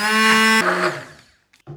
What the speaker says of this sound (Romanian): trebuie neapărat să o facem și mai fină cu blenderul. O fac de câteva ori